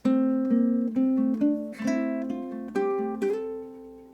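Ukulele picking out the last measure of a song, a short melodic phrase of plucked notes with one chord strum near the middle, played close and clear with no voice over it.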